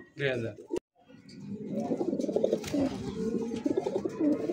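A pair of Bombay pigeons coo in soft, repeated throaty calls close by, with someone talking over them.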